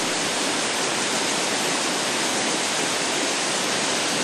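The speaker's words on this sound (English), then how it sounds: "the spectacular Wusha Creek waterfall splashing down from the rocky hills beyond Nanshu Creek." Wusha Creek waterfall crashing down from rocky hills into a pool below in a forest recreation area, a steady, loud, unbroken roar of falling water with no voices.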